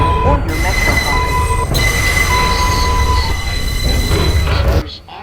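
A New York City subway 4 express train pulls into a station, loud and close, with steady rumbling, screeching wheel tones and high whining hum that continue until the noise drops away at the end.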